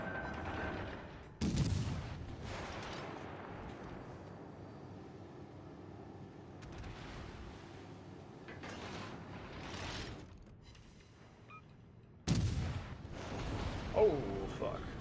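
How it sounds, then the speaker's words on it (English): Enemy warships fire their guns in the naval combat game World of Warships Legends, several loud, sudden booms standing out over a low rumbling mechanical background, with a voice talking in between. "They're shooting back!"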